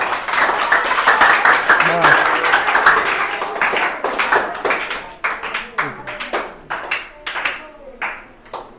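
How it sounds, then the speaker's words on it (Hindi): Classroom students clapping their hands, a burst of dense overlapping claps that thins into scattered separate slaps, with a teacher's voice talking over the start. "ताली बजाओ, ताली बजाओ।"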